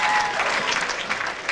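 A crowd at a 1998 professional bowling tournament match claps steadily and loudly throughout after a strike, a dense, continuous applause with a few faint voices mixed in.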